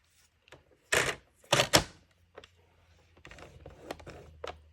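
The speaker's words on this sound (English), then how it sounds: "I'm just going to use my trimmer to score it." A paper trimmer scores card for a truffle box: two louder scraping strokes, then softer rustles and light clicks over a low background hum, close by with no speech.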